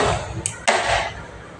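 A gas stove burner is lit in a home kitchen: a quick igniter click, then a soft whoosh as the flame catches and settles into a steady low hiss.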